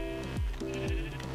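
A sheep in the video game Minecraft bleats twice in a row, short wavering calls heard clearly and alone at low volume.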